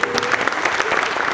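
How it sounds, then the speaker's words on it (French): Dense audience applause at a hockey club's gala evening, a loud continuous wash of many hands clapping. "Applaudissements."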